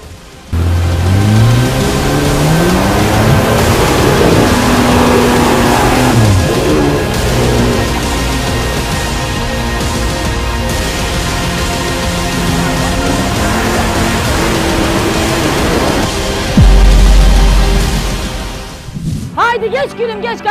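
A car engine hums and rises in pitch as it revs repeatedly, with people talking over it throughout, then a deep roar near the end.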